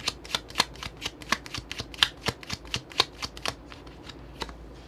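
Tarot cards being shuffled by hand for a love reading, a quick series of crisp riffling slaps and flicks in an irregular rhythm, close and fairly quiet, with no talking over them.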